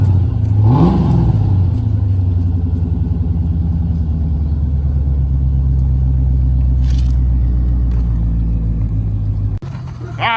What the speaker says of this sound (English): Come on, Lou, give it a rev.